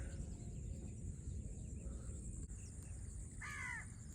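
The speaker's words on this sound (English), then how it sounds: "The crow is still chattering." A crow caws once, a short harsh call at moderate distance, heard over steady outdoor village ambience with insect buzz and low background hum.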